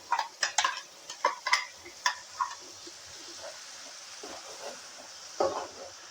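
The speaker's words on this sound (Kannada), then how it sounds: "ಈಗ ಟೊಮೆಟೊ ಪ್ಯೂರಿ ಹಾಕಾದ್ಮೇಲೆ ನೀಟಾಗಿ ಫ್ರೈ ಮಾಡ್ಕೊಳ್ತಾ ಇದ್ದೀನಿ" Tomato puree frying in a pan over low heat for an aloo dahi curry, with a spoon stirring in a series of scraping strokes over a soft, steady sizzle.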